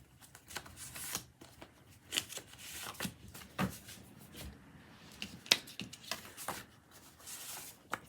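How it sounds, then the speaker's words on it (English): Tarot cards shuffled and drawn by hand during a love reading, giving quiet, irregular papery riffles and soft flicks with sharp snaps of cards landing, close and fairly faint, with no talking. "I'm just going to intuitively pull 3 cards."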